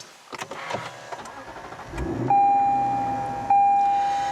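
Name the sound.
Lexus GS F V8 engine starting with push button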